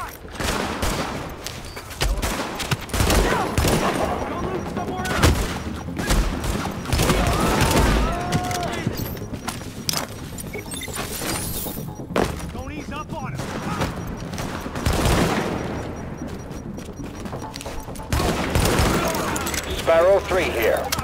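Gunfire in Tom Clancy's The Division, with dense bursts of automatic weapon fire and sharp single shots repeating over about twenty seconds, loud and close, alongside in-game voices talking.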